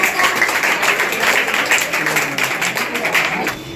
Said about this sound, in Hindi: तालियां बजा दीजिए एक बार जोरदार